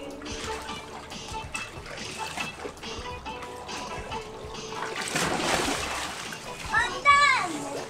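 A child splashes into a backyard above-ground steel-frame pool, with water splashing and sloshing that swells near the end, under constant chatter from children and adults close by.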